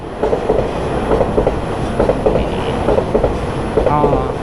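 A passenger train on a Taiwanese line rolls past close by, loud rhythmic clickety-clack of wheels over rail joints with a steady rumble throughout.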